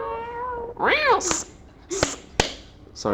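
A pet cat meows in short, rising cries at close range indoors, with a brief spoken word before and sharp clicks between the calls.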